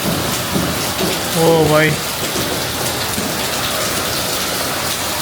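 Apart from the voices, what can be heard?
heavy rain pouring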